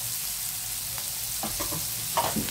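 Paneer tikka pieces fry in hot oil with a soft continuous sizzle, broken by a few scraping stirs near the end.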